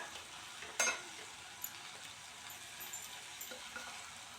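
Masala for a beetroot gravy stirred and fried in a pan after water is added, a soft, continuous sizzle with one sharp scrape of the spoon and a few lighter taps.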